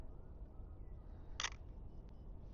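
Single crisp shutter click of a film camera fitted with a 50mm lens, one short sharp mechanical snap over a quiet room hum, followed by a faint softer tick.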